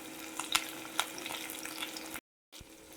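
Onion, chilli and curry leaves fry with ginger and garlic for a pearl spot fish curry, giving a quiet, steady sizzle. A few light crackles and spoon taps sound through it, the sound cuts out briefly, then the frying carries on softly with no voices.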